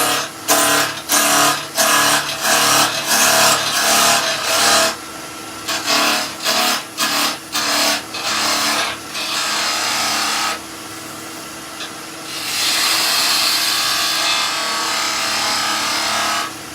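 A wood blank on a lathe is cut down until it runs round. The tool bites in a loud rhythmic series of scraping, chattering passes with short gaps, then settles into a longer, steadier hiss of cutting.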